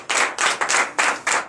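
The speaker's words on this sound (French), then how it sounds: "Je vous demande de l'applaudir très fort" A church congregation at a Sunday service in Benin claps in unison, with five loud, even bursts of rhythmic clapping close by.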